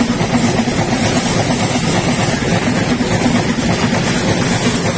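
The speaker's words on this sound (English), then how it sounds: "I will not even try to talk louder than this train." A train passing close by in rural France produces a loud, steady rumbling roar that fills the whole stretch without letup, with no voices audible over it.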